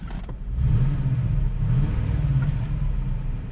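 A 2001 Cadillac DeVille engine idles with an uneven, skipping rumble from a misfiring number 8 cylinder, the low throb loud and close with a faint lurch in its rhythm.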